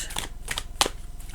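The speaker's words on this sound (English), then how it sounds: "I want to shuffle them on camera, right, so you can see me shuffling them." A deck of playing cards is shuffled by hand in front of a webcam: quick papery riffles and snaps in a few short bursts, close to the microphone, with a faint hum underneath and no speech.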